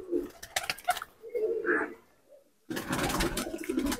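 Malwai pigeons, two females of a Punjabi breed, give soft low cooing calls close by, with a quiet pause before a busier stretch of cooing and rustling near the end.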